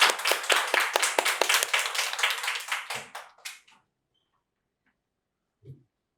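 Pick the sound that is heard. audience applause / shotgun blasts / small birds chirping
audience applause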